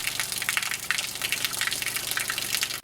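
Continuous gushing water pouring steadily into containers being filled, loud and close, with a constant rushing splash throughout.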